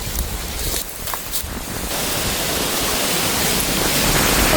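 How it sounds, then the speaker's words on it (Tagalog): Strong wind roars steadily through a forest, growing louder and more broadband, with gusty buffeting across the whole stretch and no one speaking. "Tapos ang hangin."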